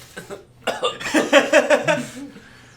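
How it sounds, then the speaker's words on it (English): A person coughs several times in a rough, rhythmic burst, close to the microphone. "I think I'm coughing up a little blood here"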